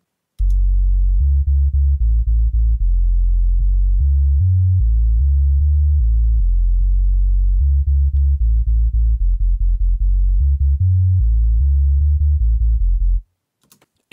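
A synthesized sub bass line made in Logic Pro X plays alone: deep, pure sine-like notes shifting pitch in a steady rhythmic pattern for about thirteen seconds, then cutting off.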